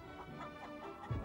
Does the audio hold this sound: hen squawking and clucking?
yes